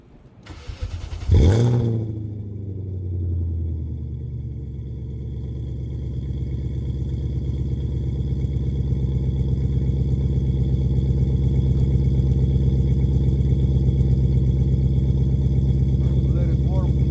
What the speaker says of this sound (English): decided to show you guys my cold start, my V8 straight pipe